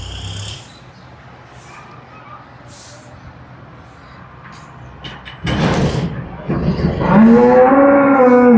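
Cattle moo loudly nearby toward the end at a dairy farm, drawn-out lowing calls after a quieter stretch of shuffling and ambient noise.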